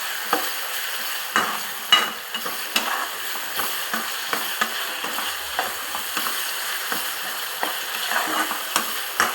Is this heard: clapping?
no